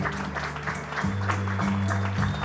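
Sustained clapping from guests at a quinceañera celebration honoring the parents, the applause blended under prominent music with held bass notes.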